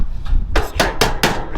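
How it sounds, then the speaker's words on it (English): Sharp, loud hammer blows strike a chisel against a metal roof gutter bracket during a gutter installation, four evenly spaced metallic knocks ringing close over a steady background hum. "now this is where you get your chisel out and your hammer"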